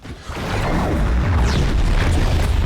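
A space age cannon fires in the Gangs of Sherwood video game, a loud booming blast that swells and rumbles on as a sustained roar, with the low end heavy throughout.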